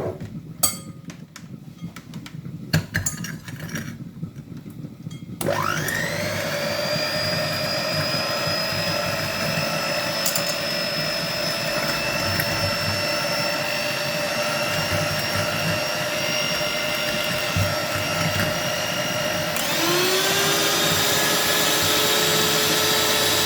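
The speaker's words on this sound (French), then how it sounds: "je vais battre tout ça avec le batteur" An electric hand mixer beats eggs with sugar and vanilla sugar, a loud steady motorized whir that starts after a few seconds of handling clatter and runs continuously, rising slightly in pitch near the end.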